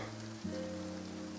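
Steady rain falls in Fontaine in Genshin Impact, a continuous soft hiss of drops over a sustained low musical drone, with a brief swell partway through.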